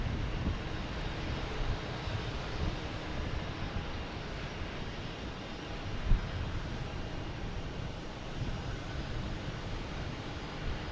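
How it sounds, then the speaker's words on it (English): American Airlines Airbus A319 landing at Boston Logan Airport at night, a steady broad rushing jet roar heard from a distance, even in level with one brief bump midway and no voices. "we have American Airlines, a 319 coming in from Reagan, right over that Delta"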